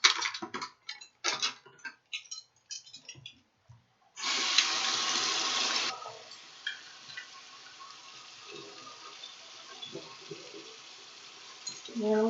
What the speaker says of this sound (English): rinse off my implement